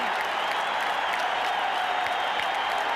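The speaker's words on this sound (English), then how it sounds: "the crowd is standing and still roaring" A baseball stadium crowd at the 1986 NLCS, Mets versus Astros, stands and roars in extra innings, a dense, continuous wall of cheering and applause that holds steady throughout.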